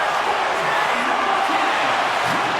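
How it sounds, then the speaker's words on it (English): Arena crowd in the NHL 24 hockey game, at a world championship match between Slovenia and the Czech Republic, cheering steadily with a broad, continuous roar that holds evenly throughout. "the crowd's on their feet, saluting the team after a hard-fought effort this evening"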